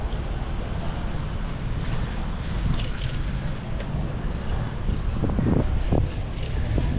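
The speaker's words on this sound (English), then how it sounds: "you can hear the wind in the video" Steady, loud wind buffeting a microphone during a bicycle ride, a continuous low rumble throughout with occasional gusty swells and faint higher rattles, no voices.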